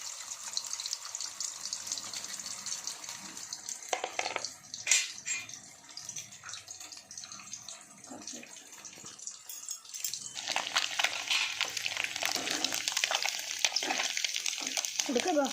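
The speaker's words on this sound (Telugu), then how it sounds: "ఈ ఉడకబెట్టిన గుడ్లని వేయించుతున్నాను దీంట్లో" Boiled eggs fry in hot oil for a village-style egg curry, a steady bright sizzle with stirring scrapes that swells louder toward the end.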